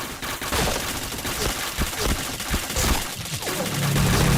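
Rapid bursts of gunfire from the shooter game Point Blank, loud and continuous with dense crackling volleys throughout, under faint voices.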